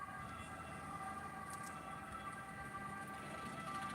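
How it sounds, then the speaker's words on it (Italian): An ambulance siren races past a seaside spot during a local festival, a steady wailing tone held at a distance throughout, with a low rumble of background noise and no talk. "ci sta sempre un'ambulanza che corre qua"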